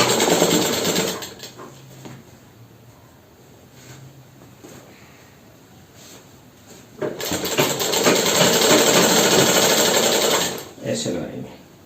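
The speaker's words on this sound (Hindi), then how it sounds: "अब यहाँ से हम इसको एक पैर की सिलाई लगाएंगे" A sewing machine stitches a leg seam on underwear in two loud bursts of rapid, buzzing mechanical stitching, separated by a quieter stretch where a person talks.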